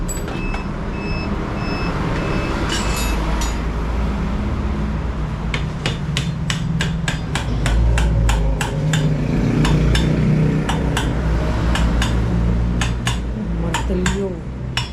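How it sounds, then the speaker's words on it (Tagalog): Sharp metal hammer strikes ring out in a steady series over loud engine rumble and background noise, close and prominent, with occasional faster clusters of blows. "Martilyo."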